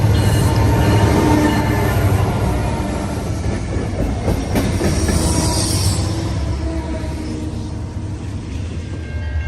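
A CN freight train rolls steadily past at Macmillan Yard, loud and close, with a continuous rumble of railcars, rhythmic wheel clatter and occasional high squeal from the wheels.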